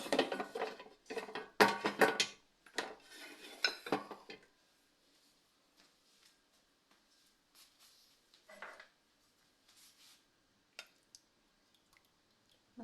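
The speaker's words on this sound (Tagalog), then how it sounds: "So, ilalagay na natin ito sa air fryer." Chicken pieces are set into an air fryer basket with a cluster of close clattering clinks and taps of metal and cookware, followed by quieter sparse clicks and small handling sounds.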